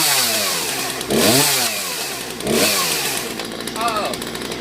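A chainsaw idles, then revs up hard twice in loud rising surges before settling back. Its chain brake is burned out, and it is about to cut a dry block of wood.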